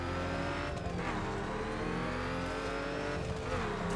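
A RUF sports car in the racing game The Crew, driving off-road through desert, with a continuous loud engine drone that swells and shifts with revs, steady throughout.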